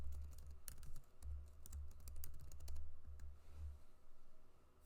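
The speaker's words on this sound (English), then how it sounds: "I want to go back over to Canva and I want to type in daily planner" Quiet, close computer keyboard typing: a quick burst of clicking keystrokes, then a few scattered taps before trailing off, with no voices.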